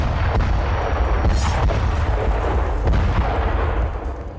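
An Israeli Air Force strike on a building sets off a loud, sustained roaring blast with a deep rumble, which holds for several seconds before easing slightly at the end.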